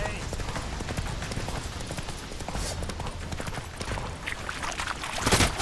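The horse Roach trots in The Witcher 3, a steady clip-clop of hooves running under the whole stretch while a voice talks over it and a loud sharp hit lands near the end.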